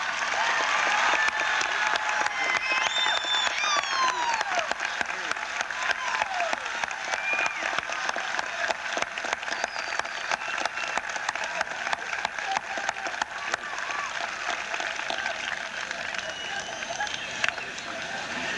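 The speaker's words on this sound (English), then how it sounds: "I would ask you all to give a round of applause" Sustained applause from a large audience at a school commencement ceremony, dense and even throughout, with a few scattered louder claps.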